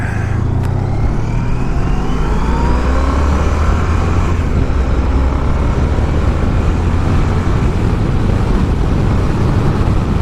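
Steady, loud road roar from a motorcycle accelerating past another car on the road to Pine Flat, with a continuous engine drone and rushing wind throughout, no talking.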